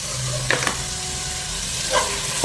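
Chopped tomatoes frying in a pan for an avarakai chicken dish give a soft, steady sizzle with a couple of brief clinks and stirring scrapes, quiet and without talk.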